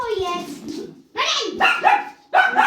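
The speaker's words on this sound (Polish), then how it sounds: "Strasznie szczeka." A dog barks and yelps close by in several short, sharp bursts separated by brief pauses, with a person's voice mixed in around the barks.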